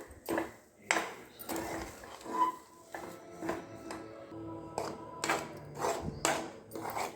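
Semolina and sugar stirred in a pan for kesari barfi: a spoon scrapes and knocks against the pan in repeated uneven strokes, close and moderately loud, with brief metallic clinks and no talking.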